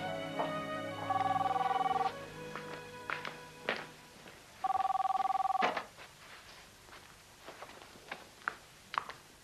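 A telephone rings indoors in two clear electronic bursts about a second each, separated by a pause. Scattered soft thumps and taps fill the quiet around the rings.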